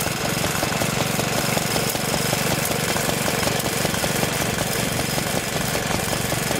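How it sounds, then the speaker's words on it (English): Loud, steady running of a Lee Howell pump belt-driven from a Lister D stationary engine at an engine rally, with a rapid rhythmic chug and mechanical clatter throughout and no voices. "And down here we've got a Lee Howell pump."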